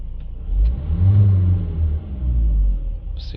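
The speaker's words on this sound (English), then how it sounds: "Start the engine." A Renault Trafic van's diesel engine, fitted with a clogged particle filter, rumbles close by and revs up in a couple of swells before dropping back to idle.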